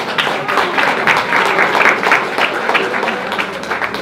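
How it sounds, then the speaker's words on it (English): Audience applause after a film screening Q&A, a steady round of clapping from a modest crowd with some voices mixed in, lasting about four seconds. "round of applause for her, please"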